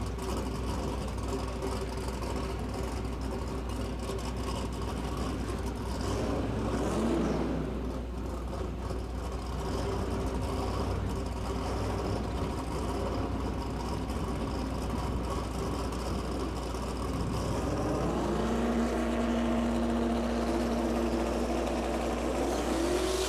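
A drag race car launching at a west coast grudge race, with a loud, sustained engine roar that rises in pitch as it pulls down the track, heard over steady background noise.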